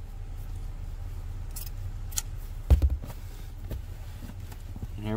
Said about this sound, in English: Cut a little extra, be safe.